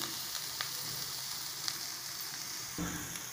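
Grated coconut sautéing in a pan for Tamil-style coconut rice gives a steady, close sizzle throughout, with occasional sharper crackles and a brief scrape of stirring near the end.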